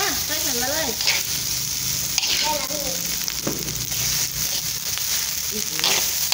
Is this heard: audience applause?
no